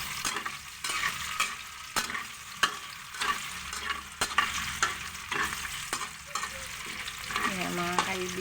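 Tofu fries in a pan, crackling and sizzling steadily while a utensil scrapes and stirs in sharp repeated strokes, close and clear with no talk.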